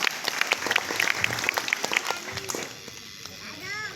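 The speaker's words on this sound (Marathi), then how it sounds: "या सर्व विद्यार्थ्यांसाठी आपण एकदा जोरदार टाळ्या वाजवूया" A crowd of spectators at an Independence Day school ceremony claps for students after their drill parade. The applause is a steady patter of claps that thins out after a few seconds, with a voice speaking briefly.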